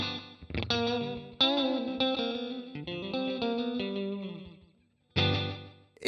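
Electric guitar played through a digital delay pedal set to about 175 milliseconds, picked notes and chords ringing out with echoing repeats trailing behind, a brief fade to near silence, then a loud chord resumes.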